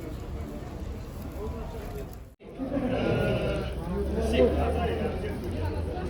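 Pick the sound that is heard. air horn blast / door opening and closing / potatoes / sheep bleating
sheep bleating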